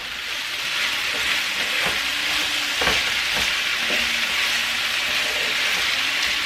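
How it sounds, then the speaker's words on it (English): Corn and tomato are stirred in a hot pan with cactus for vegetarian enchiladas, giving a constant close sizzle and frying hiss. Occasional scrapes and clinks of a utensil sound under the sizzle. "I'm going to go ahead and add the corn, the tomato, mix it up a little bit."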